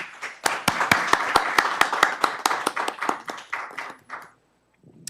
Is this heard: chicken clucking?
no